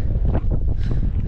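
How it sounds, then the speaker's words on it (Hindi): Strong wind on the hilltop of Torna Fort near Pune under cloudy skies buffets the microphone in loud, uneven gusts of rumbling noise, with no talking. "काफ़ी ज़्यादा तेज़ हवा है, आपको वो वीडियो में भी आवाज़ सुनाई दे रही होगी"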